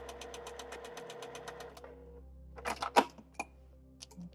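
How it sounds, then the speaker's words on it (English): A sewing machine stitching quilt appliqué runs in a steady rapid whir for about two seconds, then stops, followed by a few close clicks and fabric handling noises. "And let's put him through the machine. Again, sewing just to the outside of that line."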